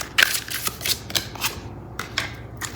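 Tarot cards shuffled and drawn near the microphone, a run of crisp papery flicks and slaps in an uneven rhythm, loud and close with no talking.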